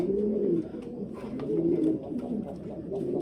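Pigeons coo steadily in a breeding loft of show pigeons, their low throaty calls overlapping and repeating in a continuous close chorus with no talk.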